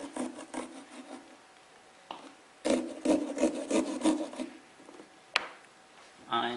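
A coarse knife sawing through a pumpkin shell while carving cutouts, rough rasping strokes in short bursts with pauses between them, close and fairly quiet.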